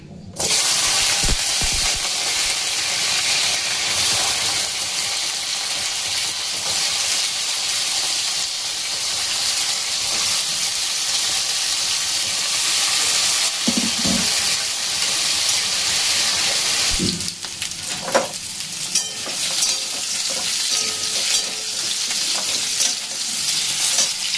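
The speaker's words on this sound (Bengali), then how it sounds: "কচু আলুগুলোকে আমি প্রথমে ভেজে নেব তেলে।" Taro and potato pieces frying in hot oil, a steady loud sizzle and hiss that runs throughout, with occasional stirring clatter toward the end.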